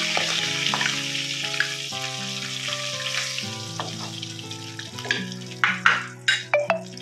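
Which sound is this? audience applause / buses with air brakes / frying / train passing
frying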